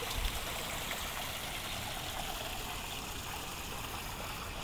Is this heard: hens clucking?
no